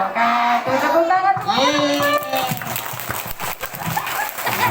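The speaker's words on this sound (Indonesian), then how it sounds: "Tepuk tangan." Audience at a Maulid Nabi gathering clapping hands, a dense spell of applause in the second half, after voices and music-like tones fill the opening.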